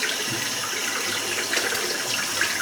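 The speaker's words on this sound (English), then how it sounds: "I'm just going to rinse the brush out." Tap water runs steadily while a shaving brush is rinsed out under it, a loud, close, continuous rushing stream with occasional brighter splashes as the brush moves through the flow.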